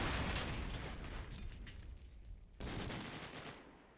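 SMG and AK gunfire in Call of Duty 4, dense rapid automatic bursts with a sharp restart partway through, fairly faint overall with no talking.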